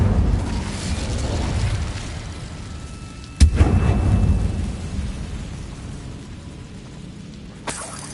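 Incendio fire spell cast in Hogwarts Legacy, a sudden loud whooshing burst that fades slowly over a rumbling background, with a smaller second burst near the end.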